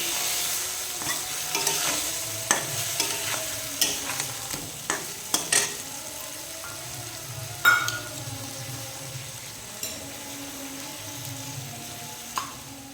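Mustard seeds fry in oil in a pan while a spoon stirs them, giving repeated clinks and scrapes over a faint, steady sizzle.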